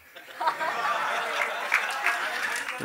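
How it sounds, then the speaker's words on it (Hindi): A crowd at the Jersey trailer launch with Shahid Kapoor applauds, the soft, somewhat distant clapping mixed with scattered laughter and chuckles throughout. "जोरदार तालियां"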